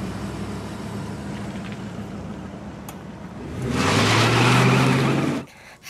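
A car driving past with a steady broadband road and engine rumble that swells louder for a couple of seconds near the end, then cuts off abruptly.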